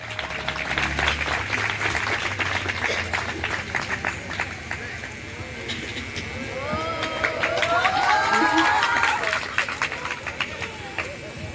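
An audience applauds at the opening of a cultural and spiritual center in Torbec, Haiti, with dense, continuous clapping and crowd murmur and voices rising partway through.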